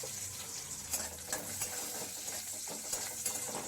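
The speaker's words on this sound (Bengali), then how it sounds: "এবার দিলাম পাঁচ ফোড়ন" Panch phoron whole spices hit hot oil already holding bay leaf, dried chilli and whole garam masala for a cauliflower dish. A faint, steady sizzle carries light stirring clinks from a pan, with no talking.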